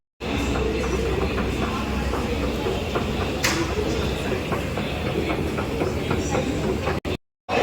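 A metro train runs steadily with a continuous loud rumble and rhythmic clickety-clack of the wheels, heard from inside the carriage, with a brief sharp break near the end.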